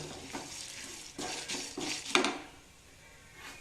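Cumin seeds roast in a pan for a raw plantain chutney, heard as a quiet, close sizzle with a few short scraping bursts of stirring and one metallic tap, fading toward the end.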